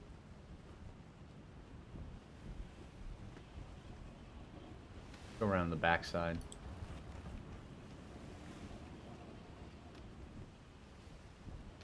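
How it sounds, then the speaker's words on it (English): Ocean waves in the sailing game Atlas wash as a faint, steady surf with wind-like noise throughout. A voice briefly speaks over it. "And then the waves today are really out and about doing their thing."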